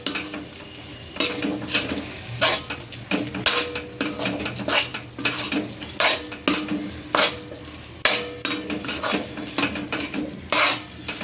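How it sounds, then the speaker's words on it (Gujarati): Green chickpeas sautéing in a pan with coriander-cumin powder, with repeated scraping strokes of a spoon stirring them at a steady rhythm over a faint sizzle. "અને આને હું 2 મિનિટ માટે સાતળવા દઈશ"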